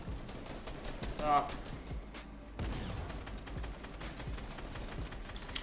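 Rapid bursts of video game gunfire crackle through a competitive duo match, with sharp shots and a brief louder flurry under ongoing game noise and a commentator's voice.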